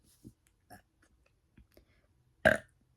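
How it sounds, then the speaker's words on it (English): A single loud burp comes near the end after a few soft mouth clicks and faint smacking sounds in an otherwise quiet space. "I'm realizing that my burping might sound like I'm like inebriated."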